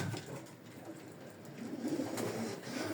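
Pigeons coo softly and continuously, low throaty calls over a hazy background hum, with no talking.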